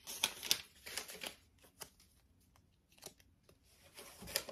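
Crinkly paper and foil of an advent calendar package being ripped open by hand, a few sharp tearing bursts and rustles scattered through a quiet room, close and fairly faint.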